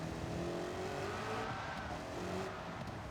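Race car engine in Gran Turismo 7 during a Le Mans race under careful throttle, a sustained buzzing drone with tire noise, fairly quiet and continuous.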